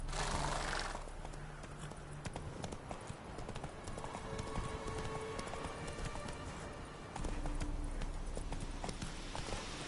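In The Witcher 3, a horse's hooves clip-clop in a steady, brisk rhythm over a hiss of rain and ambient game noise, with a louder surge near the start and again toward the end.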